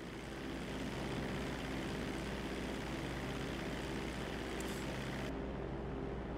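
A propeller plane in Grand Theft Auto 5 drones steadily and loudly throughout, a continuous broad engine roar with no pauses.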